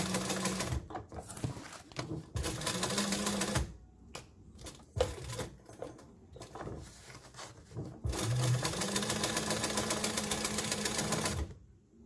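A sewing machine runs in several long bursts stitching a back band strap, its rapid mechanical chatter loud and close, broken by short pauses and handling noises between runs.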